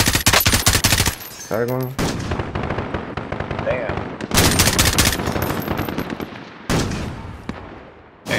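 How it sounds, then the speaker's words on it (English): Warzone gunfire crackles in dense bursts of shots, loud and close, with pauses between volleys and voices talking over the shooting. "They're shooting from both doorways."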